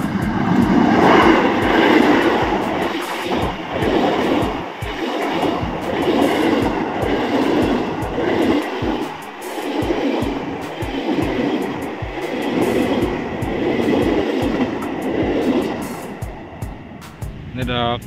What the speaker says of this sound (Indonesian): KRL Komuterland menuju stasiun Cakung